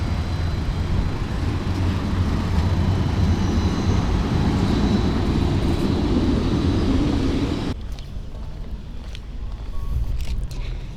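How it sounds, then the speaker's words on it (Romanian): A green tram arrives in a pedestrian area of a Turkish city, a loud, steady rumble and rolling roar that cuts off abruptly toward the end, leaving quieter street ambience. "Uite, a venit și tramvaiul."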